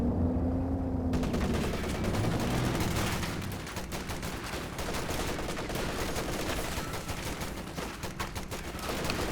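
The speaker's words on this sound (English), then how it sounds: "These units actually shooting at this squad back here." Units firing on an infantry squad in a WWII real-time strategy battle: rapid rattling bursts of machine gun and rifle fire that continue steadily, with a low rumble in the opening seconds.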